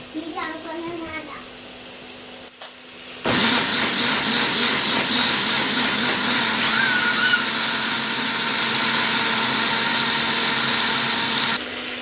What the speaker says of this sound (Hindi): और इसको अच्छे से हम ब्लेंड कर लेंगे अब